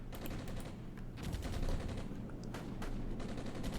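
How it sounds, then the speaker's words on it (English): Sustained gunfire with bursts of machine gun fire from the war strategy game Armored Brigade, set during the first battle of Grozny, crackling densely and continuously at a steady loud level with no talk. "It's hard not to with the constant gunfire going on, the ambushes everywhere."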